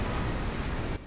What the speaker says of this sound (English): here comes a big bullet bill